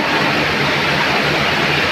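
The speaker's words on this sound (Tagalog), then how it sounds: "Rapid. We're here in the rapid." Rushing rapids of an underground river inside Lobo Cave in Jiabong, Samar, a loud, steady roar of churning water that fills the space without a break.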